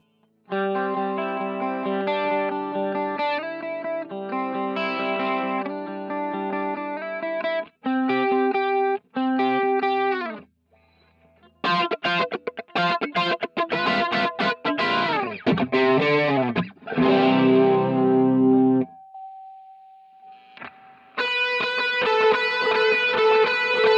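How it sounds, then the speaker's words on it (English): Electric guitar plays chords and arpeggiated phrases through a Line 6 Helix Plasti Chorus effect, warbling and slightly gritty, with short pauses between passages and no voices. "And then next is the Plasti Chorus. Now this is not a very clean chorus."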